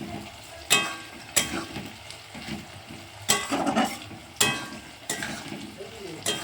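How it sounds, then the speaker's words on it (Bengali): Onions frying in a pan for mutton curry: a soft, continuous sizzle broken by several sharp scraping, clattering bursts of stirring at irregular intervals. "খাসির মাংসের জন্য পেঁয়াজ ভেজে নিয়েছি।"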